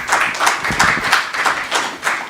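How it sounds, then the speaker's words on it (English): Audience clapping for panel members at a book launch panel on AI, a steady near round of applause with distinct hand claps repeating about every half second, with no talking. "Let's give them all a big round of applause"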